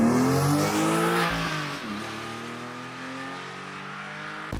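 A Porsche 911 of the 996 generation revs hard and then eases off, its engine note rising sharply before settling into a steady sustained drone, loud and close with no voices.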